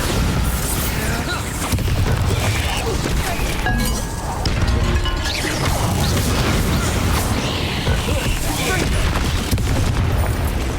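Bombarda explosion spell cast in Hogwarts Legacy on Nintendo Switch: dense, continuous booming blasts and crashing debris fill the scene, loud and sustained with game effects and voices mixed in.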